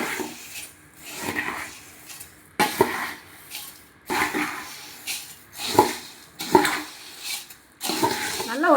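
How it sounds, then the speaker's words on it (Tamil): Masala puffed rice (kara pori) being stirred and tossed in a pan, with repeated rhythmic scraping and rattling of the spoon against the metal in bursts, faint voice in between. "5 நிமிஷத்துக்கு அப்படியே கிளறி விடலாங்க."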